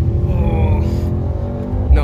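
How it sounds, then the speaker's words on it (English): A 2019 Mercedes-AMG GT Four Coupe on a race track gives a loud, close engine drone with harmonics that climb and then break off as it shifts gears, followed by the pitch rising again. "Look at the way it shifts gears, man."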